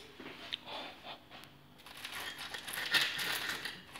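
A knife cuts through crispy fried Greek saganaki cheese served with honey and pomegranate, giving a few crunchy, crackling bursts that build louder toward the end, close and alone without speech.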